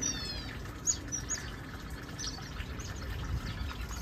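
Small birds chirping and tweeting from a small rooftop, scattered short high calls spaced irregularly over a quiet outdoor background, fairly faint and somewhat distant.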